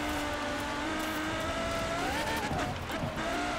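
Race car engine on an offroad track in Forza Horizon 4, a steady droning engine note that rises and falls as it revs, heard fairly faint and alone.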